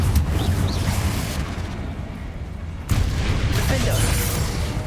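A Confringo fire spell explodes during a spider fight in Hogwarts Legacy, a deep booming blast over rumbling game sound, followed by a second loud impact near the three-second mark, with other game action continuing under it.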